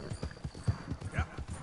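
Horse hooves clip-clopping in a steady, rhythmic gait while riding in Red Dead Redemption 2, with close, even beats of low thuds across the whole moment.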